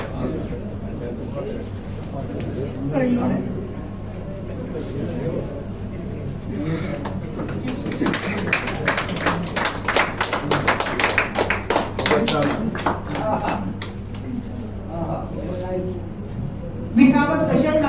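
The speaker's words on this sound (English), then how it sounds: "Give a grand applause" Audience applause at a regional conference in Bengaluru, scattered claps building into a denser burst of clapping midway, then thinning out, with voices talking over the hall throughout.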